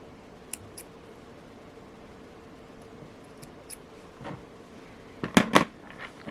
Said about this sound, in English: Now I will cut the end of the thread with the scissors.